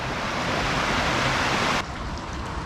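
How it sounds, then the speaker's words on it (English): Drainage water rushing down a drop into a channel that feeds a river, a loud continuous hissing roar that suddenly drops to a quieter rush near the end. "And that's where all our drainage water is going."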